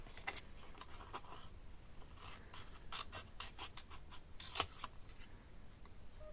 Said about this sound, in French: je vais simplement le découper au ciseau